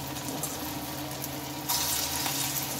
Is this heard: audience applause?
no